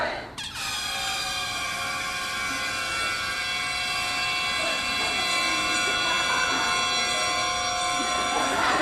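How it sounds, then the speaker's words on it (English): Several air horns blaring at once in a loud, sustained, layered chord that holds steady for several seconds. "people will blow air horns until they expire"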